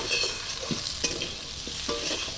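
Soft sizzling in a pan with a few scraping strokes of a spatula as spices including turmeric powder are stirred and fried, close and fairly quiet.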